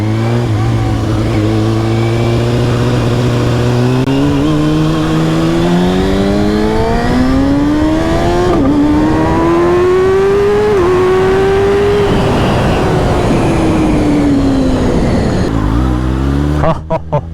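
A 2019 Kawasaki ZX-6R sport motorcycle with a Yoshimura Alpha-T exhaust accelerating hard, its engine note climbing steadily through quick-shifted gear changes, loud and close throughout, with no talking.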